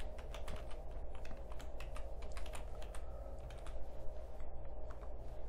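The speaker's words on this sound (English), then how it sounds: "just simply type in Form Publisher" Fingers tap steadily on a computer keyboard, close and fairly quiet, producing a run of rapid clicks over a low constant hum.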